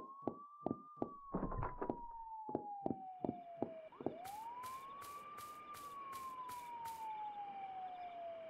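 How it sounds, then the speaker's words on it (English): A police siren in a horror video game wails in long rising and falling sweeps. A brief rapid yelp pattern cuts in mid-way. Faint knocking thuds sit underneath. "let's go see what the sirens are about"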